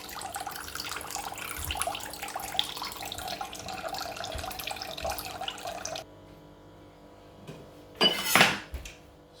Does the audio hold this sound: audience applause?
no